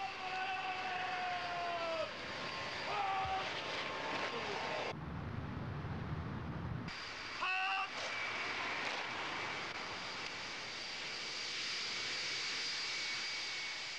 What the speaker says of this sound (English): Once the King's plane had touched down at Gatwick Airport